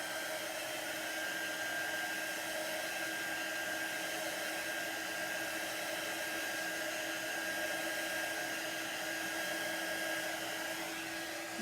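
A dryer blows steadily to dry chalk paste on a craft project, a loud, even whirring roar that runs the whole time without pause and with no voices.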